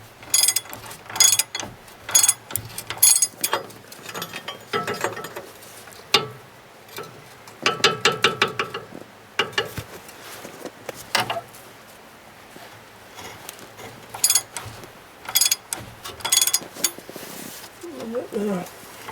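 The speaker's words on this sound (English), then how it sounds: "I'll need to get a socket on the other end of it. So get the spanner on the other end." Ratcheting clicks from a socket spanner turning a nut on a Ford Ranger Mk3 Wildtrak front shock come in short bursts between pauses, with someone talking at times.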